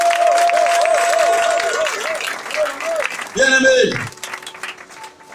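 A church congregation applauds and cheers while a voice speaks over it, with a sung or intoned tone wavering underneath and a brief louder swell near the end.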